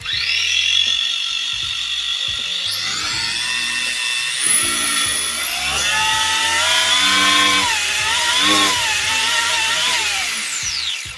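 Tamiya TT02B radio-control car motor revving hard, a loud rising and falling electric whine with sweeping pitch and a scraping, rubbing rattle underneath, sustained throughout without talk.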